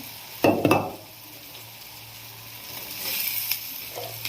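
Chopped ridge gourd tipped into a hot oiled pan for a Maharashtrian dry vegetable dish, a loud burst of sizzling and clatter at the start, then a steady softer frying hiss with occasional stirring scrapes.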